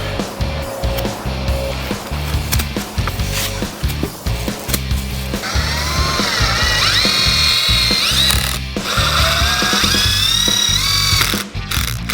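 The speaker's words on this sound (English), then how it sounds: "now we are just gonna screw them together and making 2 boxes, 2 4x4 boxes" A power drill drives screws into wooden boards, joining them into two 4x4 boxes for an archery target stand. Loud, close motor whines rise and fall in pitch in repeated bursts, with knocks and clatter between them and no talking.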